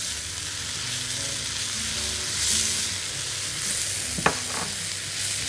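Peas and carrots sautéing in a pan give a steady soft sizzle with light stirring, alone and close, with a brief sharp scrape of a utensil near the end.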